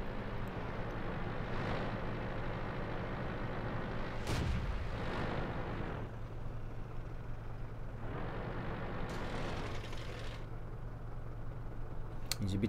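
Enemy artillery shells land in a World of Tanks battle, with several deep booming impacts and crackling bursts spaced over a constant rumble of engine and battlefield noise.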